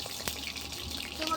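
Whole cumin seeds hitting hot oil in a pan on a clay stove give a steady, close sizzle with a few brief pops and crackles. No voices are heard.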